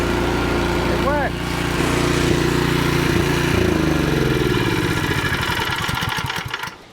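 A Black Diamond kinetic log splitter runs empty with no wood loaded, its small engine droning steadily and close for several seconds before trailing off at the end.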